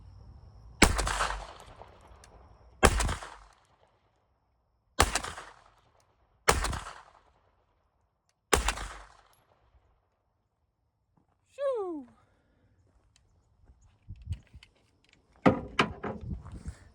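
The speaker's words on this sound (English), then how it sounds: "I'm gonna load up 5 more shots in the 9mm" Five 9mm pistol shots fired one after another at irregular intervals of about two seconds, each a sharp, loud crack with a short decay, followed by quieter clicks and handling noises after the shooting stops.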